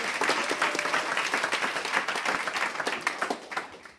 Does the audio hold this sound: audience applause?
yes